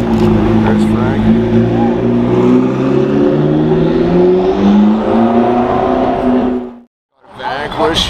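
A 2016 Aston Martin Vanquish with a V12 engine revs loudly and steadily up close for most of the stretch, then cuts out abruptly before the engine noise returns; background chatter runs underneath.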